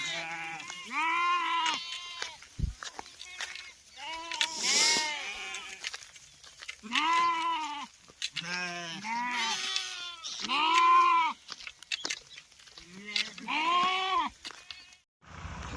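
Village sheep heading to water bleat again and again, several animals calling close by in rising, quavering cries with brief gaps, one voice overlapping the next.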